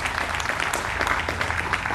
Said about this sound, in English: Go ahead, that deserves a clap.